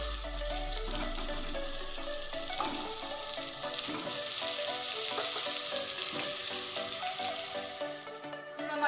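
Mutton pieces frying in a cooked-down spice masala in a pan, a steady close sizzle with bubbling and crackle that carries evenly for several seconds before easing.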